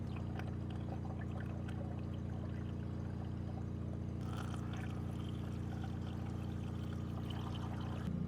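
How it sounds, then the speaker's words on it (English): Coolant poured into the cooling system of an old scrap truck, a steady continuous stream with a faint trickling texture over a constant low hum, close and unbroken. "We're gonna pour some coolant in and just see if she comes gushing out anywhere."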